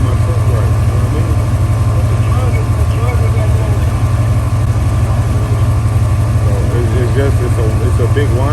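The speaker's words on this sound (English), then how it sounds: "So it's a big whining noise." A two-door Chevrolet Tahoe engine running with a whining noise suspected to come from the alternator: a steady, close mechanical drone and hum under a voice talking throughout.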